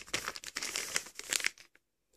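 A small plastic baby-care packet crinkles and crackles in quick bursts near the microphone, the rustling bright and busy for about a second and a half before it stops and silence follows.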